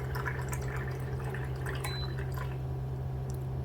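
Water trickles and drips into a container from a push-button water dispenser, a steady close liquid flow under a low electrical hum.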